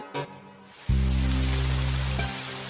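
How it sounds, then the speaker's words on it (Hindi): Heavy rain gives a dense, steady hiss, with a deep, loud rumble that starts abruptly and holds for over a second before easing back to the plain downpour. "देखो आज बारिश कितनी तेज हो रही है"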